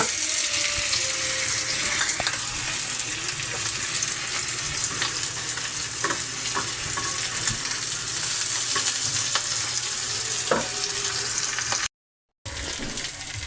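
Pork chop cooks on a grill with a continuous close sizzle and occasional crackles and scrapes, a low steady hum beneath, and a brief dropout near the end.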